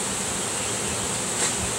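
Bees buzz around a garbage can outdoors, a steady, dense hum that holds for the whole stretch and swells slightly near the end.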